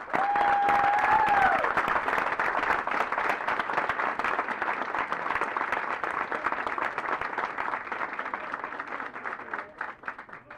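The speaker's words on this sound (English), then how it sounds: "Ladies and gentlemen, please join me in giving our awardees a round of applause." Sustained applause from an audience honoring cadet awardees at a 9th Regiment Advanced Camp graduation ceremony, loud and dense from the start, holding steady for about ten seconds before thinning slightly near the end.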